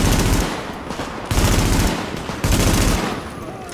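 Rapid automatic gunfire in the PC shooter Tom Clancy's The Division, loud and close, with dense bursts separated by brief pauses.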